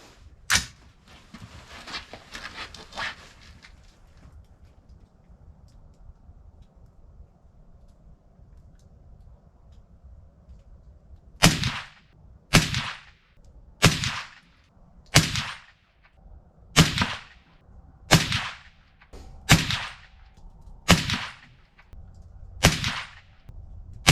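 Rifle shots from a 300 Blackout firing 150-grain spitzer handloads: a quieter burst of shots early on, then ten loud, sharp reports spaced about a second apart, booming near the microphone.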